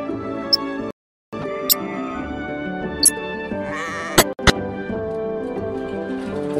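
Sheep bleat repeatedly as they come out of the water after a bath, over a busy, harmonic background, with several sharp clicks and a brief dropout midway; the bleats are close and fairly loud.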